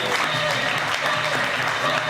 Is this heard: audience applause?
yes